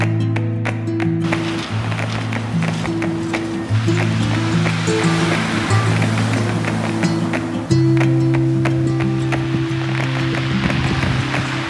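Sea waves wash over the pebble and boulder shore below the Seven Sisters chalk cliffs in England, a loud continuous surge mixed with sustained tonal music throughout.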